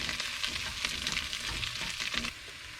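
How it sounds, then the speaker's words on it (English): Roasted butternut squash and carrots being stirred into sautéed onion and garlic in a pot, a steady close sizzle with soft scraping and shifting of food throughout, no voices. "we're gonna throw in all of our roasted butternut squash and carrots from earlier. Stir that together."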